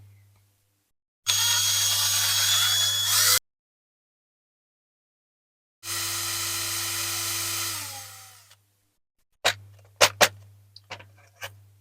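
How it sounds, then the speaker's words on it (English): A small high-pitched drill whines in two sustained bursts separated by silence, boring 1.5mm holes in a diecast metal model car, followed by a few sharp clicks and taps. "So here we go with the hole drilling."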